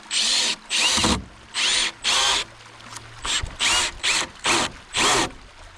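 A power drill drives screws into wood on a covered bridge build, giving about eight loud, even bursts of whirring motor separated by short pauses, close up with no talk.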